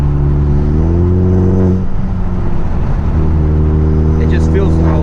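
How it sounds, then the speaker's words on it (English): A 2018 Hyundai Elantra Sport turbocharged engine in sport mode, a loud, steady exhaust drone with stacked engine harmonics that dip and recover as the gear drops, heard from inside the car with a voice speaking over it. "if you drop the gear while you're on sport, the exhaust obviously gets louder, turbo"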